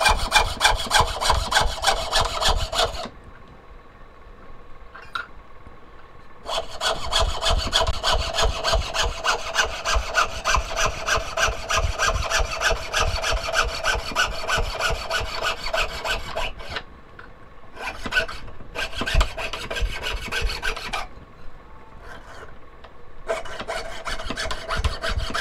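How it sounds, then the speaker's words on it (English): A hand saw cuts through a soft base metal blank to shape a whale or mermaid tail pendant. Close, rapid back-and-forth rasping strokes run in long stretches, broken by a few short pauses. "Lot softer base metal, saws just flying through."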